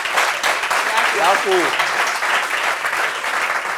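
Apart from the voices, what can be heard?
studio audience applause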